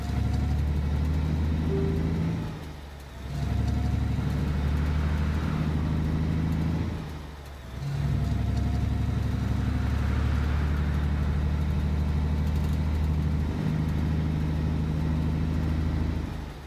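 Low, steady truck engine drone from the video game Alaskan Road Truckers, rumbling continuously with two brief dips in level before settling back to a constant hum.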